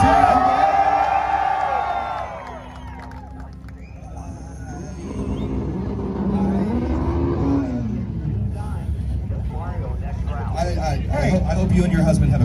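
Crowd yelling and cheering at a car rev battle and 2-step event in Bakersfield, California, with Honda, VW, Mustang and Nissan cars, loud and sustained, mixed with engine noise and an announcer talking over it.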